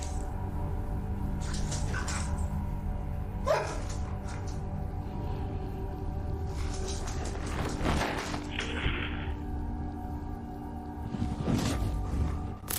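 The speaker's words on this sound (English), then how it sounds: "a dog barks at an invisible entity" A dog barks in a few scattered bursts against a steady, loud background hum, with the yelps standing out only briefly above the constant noise.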